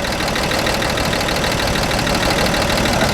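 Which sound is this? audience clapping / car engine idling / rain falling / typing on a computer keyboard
car engine idling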